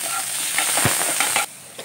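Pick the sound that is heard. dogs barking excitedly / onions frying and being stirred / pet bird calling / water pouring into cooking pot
onions frying and being stirred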